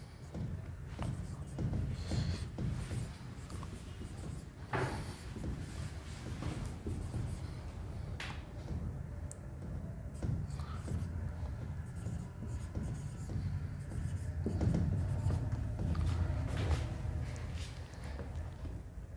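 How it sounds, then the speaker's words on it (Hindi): Chalk or marker strokes on a classroom board as a teacher writes out a reasoning question, steady scratching and tapping over about twenty seconds in a room with low background murmur. "एक क्वेश्चन और लिख देता हूँ।"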